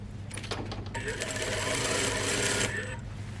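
Sewing machine stitching fabric for a lined overgarment, a short steady mechanical whir building and stopping after about two seconds, close, with a voice talking around it.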